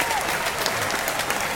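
Short burst of dense audience applause, loud and close, with a voice briefly audible over it.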